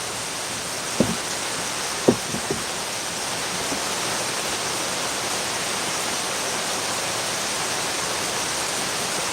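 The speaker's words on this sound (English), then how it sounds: "now the rain is coming from the back of the house" Heavy rain pours steadily during a storm in the mountains of Rincón, Puerto Rico, a dense unbroken hiss with a few brief knocks near the start and no talk.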